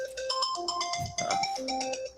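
A phone ringtone plays a steady melodic electronic ring with bright repeating tones, loud and close throughout, with a brief low thump partway through.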